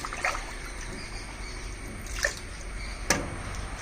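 Water trickles steadily into a glass with a soft, hissing flow, broken by a few small splashes and clinks.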